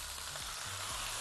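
Tomatoes go into a hot pan and sizzle steadily, a constant bright hiss with a few low thuds beneath it.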